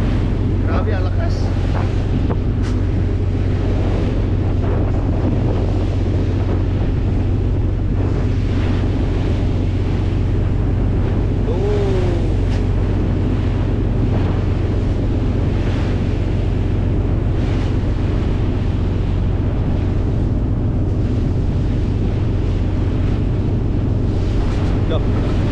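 Strong wind roars into the microphone as heavy waves crash around a rocking ship at sea, a loud, constant rush that lasts the whole time, with voices faintly audible underneath.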